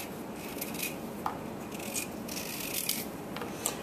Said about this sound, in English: a paring knife or a potato peeler, and you're taking off the sort of top skin here